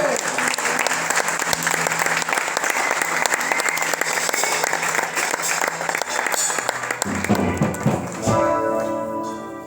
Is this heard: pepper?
no